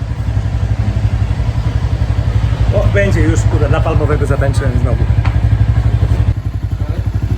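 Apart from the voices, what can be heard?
motorcycle engine running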